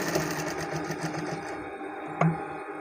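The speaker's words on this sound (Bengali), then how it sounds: "দেখুন এই যে আমি ঘুরিয়ে নিয়ে এই জায়গায় সেলাই করে দিচ্ছি।" An electric sewing machine stitches a shirt at a tailor's, a close, rapid mechanical whirring that runs for about a second and a half, then slows and stops, followed by a brief clunk.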